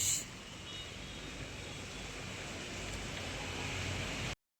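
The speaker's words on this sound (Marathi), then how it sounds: "सुरू आहे पाऊस आणि पाऊस" Steady, soft rain patters continuously, a faint hiss-like wash of drops with no voices, cutting off abruptly at the end.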